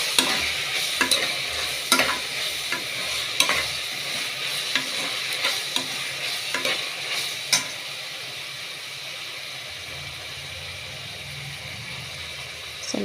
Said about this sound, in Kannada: ಚೆನ್ನಾಗಿ ಬಾಡಿಸ್ಕೋಬೇಕು